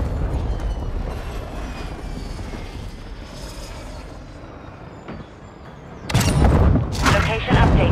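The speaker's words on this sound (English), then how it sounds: "Currently VTOL entering the airspace." A VTOL aircraft flies into the airspace in a video game, with a steady broadband engine rumble for several seconds, then louder, heavier roaring bursts as it draws near toward the end.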